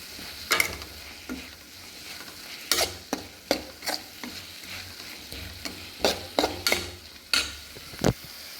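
Maggi masala being stirred into chicken soup in a pot, a soft sizzle broken by repeated sharp scraping and clinking of a spoon against the pan, with no voices.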